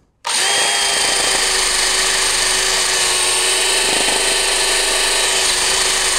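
A power drill fitted with a wire brush whirs steadily and loudly while cleaning a Datsun 280Z engine, starting abruptly after a brief silence and running continuously with a high, whining tone.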